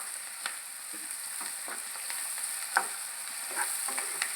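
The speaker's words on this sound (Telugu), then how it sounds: "అడుగు పట్టుకోకుండా ఇలా మంచిగా కలబెట్టేసుకుంటూ ఒక 2 నిమిషాల పాటు వేగనివ్వాలి" Ginger paste fries in oil in a pot for gongura chicken while being stirred, a soft, low sizzle with scattered scraping strokes of a spoon, fairly quiet and close, no talking.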